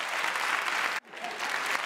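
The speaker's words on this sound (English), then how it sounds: "No double applause for you." An audience applauding in a continuous dense wash of clapping that cuts out abruptly for a moment and then swells back up.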